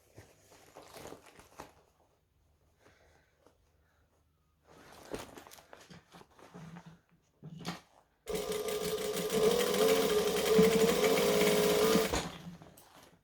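A sewing machine stitches a fabric bag, back stitching to lock the seam: after scattered handling and rustling, a steady close mechanical whir runs for about four seconds and then stops.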